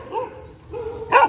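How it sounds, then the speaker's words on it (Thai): A dog gives a few short barks and yips close by, the last one sharper and louder, in a quiet outdoor setting near a temple. "อย่าเห่าลูก"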